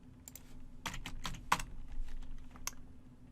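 Keys tapped on a computer keyboard at a terminal, a quick irregular run of close, crisp clicks with short pauses between bursts and one sharper strike, no voices.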